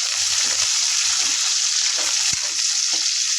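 Curry leaves fry in hot oil for a fish curry, a constant bright sizzle with a few soft stirring knocks and scrapes in the pan, with no talking.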